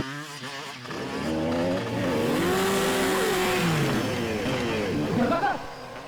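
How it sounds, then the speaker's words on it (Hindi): A motorcycle stunt jump plays out as an engine revving and whining, its pitch climbing, dropping and climbing again, mixed with dramatic background sound under a loud, busy scene. "जिस तरीके से इसने बाइक का स्टंट किया है"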